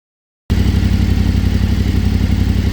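A Yamaha Ténéré 700 motorcycle fitted with a Barnett clutch idles steadily at close range, a loud, even engine rumble that starts abruptly and holds without a break.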